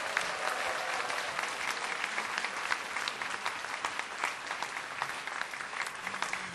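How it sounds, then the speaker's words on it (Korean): A hall audience at a book launch event gives sustained welcoming applause, many hands clapping densely and evenly for several seconds with no speech over it. "우리 모두를 위해서 한번 환영의 박수 한번 보내주시기 바랍니다"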